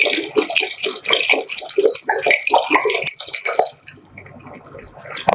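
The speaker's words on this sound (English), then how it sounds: "Now it's time to add more water to this entire solution." Water gushes and splashes into a pot of spicy chicken soup, bubbling and sloshing up close, then tapers off into quieter trickles and drips.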